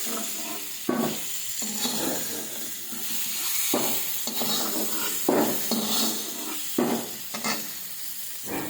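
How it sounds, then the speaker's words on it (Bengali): Hog plums fried with five-spice are stirred and scooped from a pan, with a steady sizzle under repeated scraping and clanking strokes. "আমড়াটা ভাজা হয়ে গেছে পাঁচ ফোড়নের সঙ্গে, এবার আমি তুলে নিচ্ছি"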